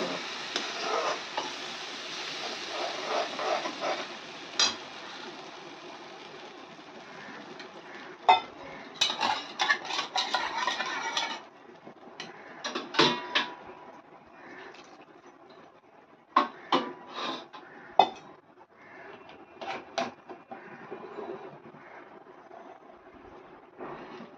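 A spoon scrapes and clinks against a metal pot in irregular bursts, stirring a thick gram flour batter for pithla, with quieter pauses between strokes.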